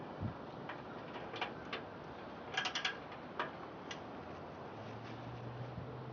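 Loosening a bolt on the live axle of a go-kart converted from a Craftsman tractor, a few faint ratchet clicks and metallic ticks over a steady background hiss with no talk.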